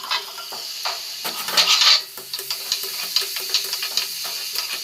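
Vegetables with capsicum and onion, plus peas and chickpeas, sizzling in a pan, with a soft continuous frying hiss broken by light scraping and stirring clatter close by.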